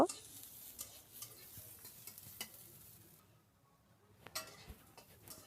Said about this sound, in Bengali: একটু পেঁয়াজ আর রসুনটা হালকা ভেজে নিব।